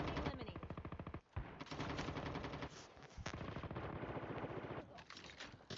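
Sustained rapid automatic gunfire from a Call of Duty Mobile battle royale fight rattles on almost without pause, with one short break and steady loud bursts throughout, no voices over it.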